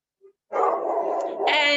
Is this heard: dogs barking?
yes